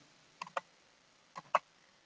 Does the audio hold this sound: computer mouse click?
yes